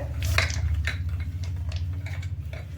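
Crispy potato cutlet mixture worked by hand in a bowl, with soft, rhythmic squishing and light clicks against the dish, close up over a constant low hum and without speech.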